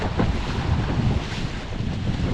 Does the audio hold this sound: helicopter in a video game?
no